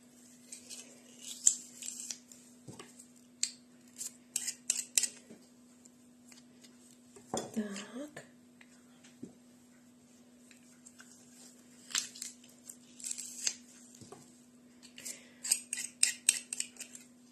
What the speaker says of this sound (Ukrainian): ми додаємо часничок через прес